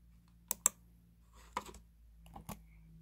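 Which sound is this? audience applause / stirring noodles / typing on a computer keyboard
typing on a computer keyboard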